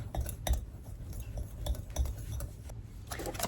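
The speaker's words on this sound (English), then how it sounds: "Whisk all that around." Batter is whisked with sugar in a bowl by hand, with quick metallic clinks and scraping taps against the sides in a steady, close rhythm, and no talking.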